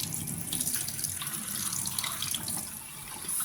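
Hot water pours steadily from a tap into a sink, a constant close splashing hiss that holds even for several seconds with no talking.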